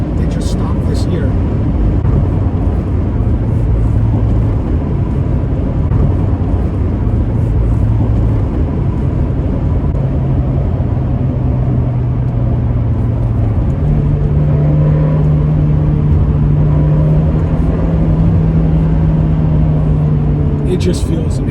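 A 2017 Fiat 124 Spider Abarth with six-speed manual driving, its engine droning steadily from inside the cabin with gradual rises in pitch as it pulls through gears, loud and continuous, with a voice talking over it.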